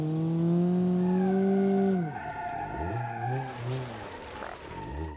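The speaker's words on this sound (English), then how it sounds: "Dang it, I spun out." A car in the BeamNG Drive driving game, its rear suspension collapsed and destroyed, skids and spins out with a loud sustained tire squeal that bends and breaks off midway, followed by rough engine revving and scrabbling tires.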